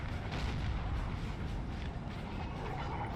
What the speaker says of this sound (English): Where is this artillery going?